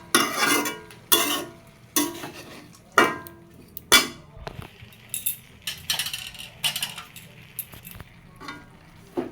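A spatula scrapes and clinks through mixed vegetables with salt and turmeric in a pan for Bengali shukto, in steady strokes roughly once a second that are loud and close, then lighter and quicker.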